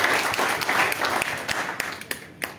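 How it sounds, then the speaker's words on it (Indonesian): Church congregation applauding during a Sunday worship service, a dense burst of many hands that gradually thins into a few scattered claps near the end. "Yang mengerti kita berikan tepuk tangan kepada kita."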